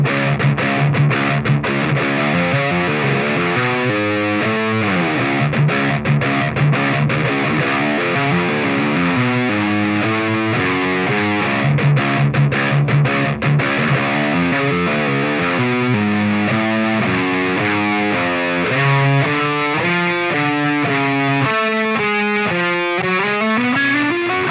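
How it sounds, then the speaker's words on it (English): Heavily distorted electric guitar plays a melodic lick at full tempo, a continuous, loud run of rapid note changes ending toward sustained chords, with no talking over it. "And we'll play it through one more time at the full speed so you can hear it again."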